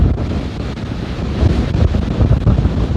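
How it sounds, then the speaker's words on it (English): Strong, cold wind gusts buffet the microphone in a low, rumbling roar during a vintage boat race, with water sloshing underneath and no talking. "It is really cold and really windy out here."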